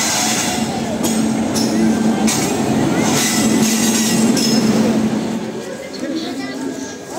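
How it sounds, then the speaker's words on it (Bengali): Uttarbanga Express, train 13148, pulling out of NJP junction, heard from on board as a steady rumble with wheel clatter and faint squeal, while people talk over it throughout. "ঘড়িতে বাজে 5:50, অ্যান্ড আমাদের ট্রেন দিল ছেড়ে।"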